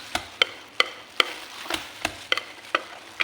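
Cake batter with flour for a banana cake is mixed in a bowl, with a quick series of sharp clicks and scrapes of the utensil against the bowl, close and about two strokes per second.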